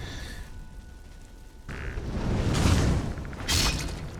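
A fire rune detonates in Skyrim, a sudden burst with a rumbling roar that swells, then a second sharp blast crackles near the end, with no voice over it.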